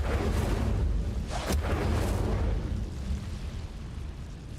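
An Incendio fire spell cast in Hogwarts Legacy produces a loud, roaring whoosh with a brief bright flare early on, then settles into a low, rumbling burn that fades gradually.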